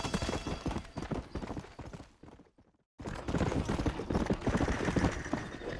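Horse hooves clip-clop rapidly and continuously in Red Dead Redemption, a loud galloping rhythm that breaks off into near silence for a moment before resuming.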